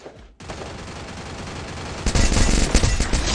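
An Uzi submachine gun fires in the Free Fire video game, a dense, continuous burst of rapid shots that starts abruptly after a short pause and grows louder and heavier toward the end, with no talking.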